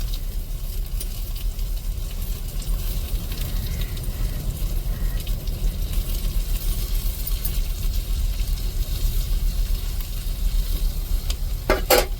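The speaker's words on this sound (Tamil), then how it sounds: "இப்போ தக்காளி, மிளகாலாம் சேர்த்து வதக்கி விட்டுக்குருவோம்." Tomatoes and chilies sauté in a pan with a loud, constant sizzle and frying crackle, with rustling from stirring. A few sharp scrapes come at the very end.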